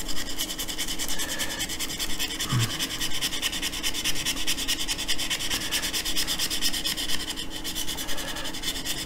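Sandpaper rubs back and forth over the corners of a wooden part for a Royal Navy Bounty model ship, a close, continuous gritty scratching in quick rhythmic strokes with one brief low thump partway through.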